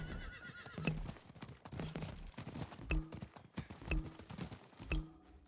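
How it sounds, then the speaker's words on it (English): Horse hooves clip-clop in repeated bursts roughly once a second while the horse whinnies and neighs in the Diablo IV video game, with busy game music and effects underneath. "The horse is like doing dressage."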